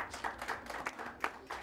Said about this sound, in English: Let us applaud Juma Ondeng.